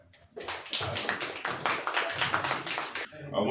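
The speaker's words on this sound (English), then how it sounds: "give him another round of applause" An audience at a political candidate forum breaks into clapping, a sudden dense patter of many hands that holds steady for about three seconds before tapering off, fairly close.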